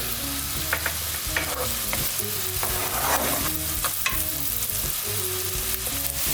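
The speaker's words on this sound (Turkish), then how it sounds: "Soğanlarımız kavruldu." Onions sauté steadily in a hot pan for lasagna, sizzling with occasional scraping from stirring throughout.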